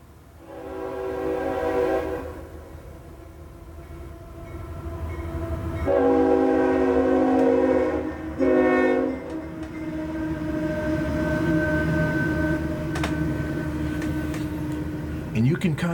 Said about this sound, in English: I've got a quick train coming